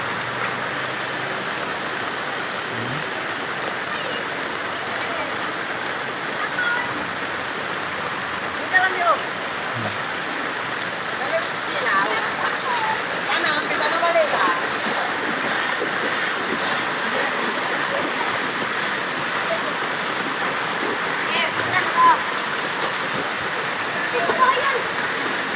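Floodwater rushes steadily after heavy rain during a 2022 flood in Aceh Tamiang, Indonesia, a dense continuous roar with scattered splashes, and voices murmur faintly beneath it.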